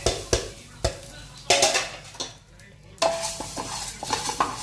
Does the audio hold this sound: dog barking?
no